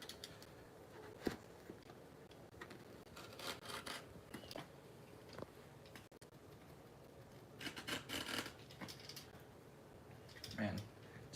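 Carpet-covered material for a homemade cat tree is cut with a blade, producing soft, uneven rasping and rubbing strokes close by in irregular bursts, quiet overall with people chatting intermittently.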